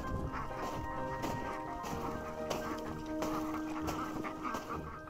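Ducks at a farm pond give repeated quacks and calls, mixed with other fowl sounds and light outdoor noise, fairly close and continuous.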